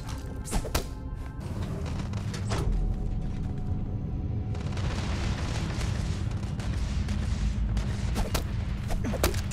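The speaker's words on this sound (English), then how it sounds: "Someone's shooting." Gunfire in the space game Starfield: repeated sharp shots and heavy booming blasts crack out over a steady rumbling background, some bursts in quick succession, loud and fairly close, with no talk.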